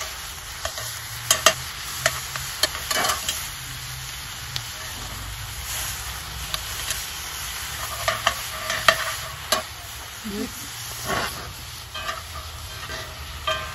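Steady sizzling of food frying in a pan, with repeated clicks and scrapes of stirring breaking through the hiss, close by.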